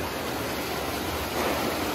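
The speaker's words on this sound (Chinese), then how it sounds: "溪水声听得非常明显。" A clear mountain spring stream rushes steadily beside a dim cave in a Miao village set among mountains in Guizhou, a dense, even wash of water at constant loudness with no voices.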